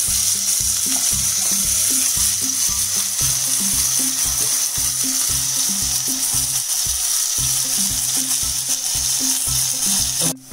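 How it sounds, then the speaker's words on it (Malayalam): Washed beef sizzles steadily in ghee in a clay pot for a Kerala-style beef roast, a loud continuous frying hiss with a rhythmic scraping or stirring pulse underneath and no talk. "ഞാൻ കഴുകി വെച്ച ബീഫ് ഇതിലോട്ട് ഇട്ട് കൊടുക്കണം."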